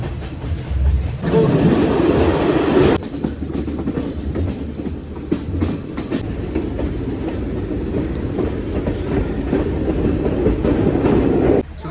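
A train runs along the Ella hill railway in Sri Lanka, a steady loud rumble with rhythmic clickety-clack of wheels over rail joints and carriage rattles, heard from inside a coach.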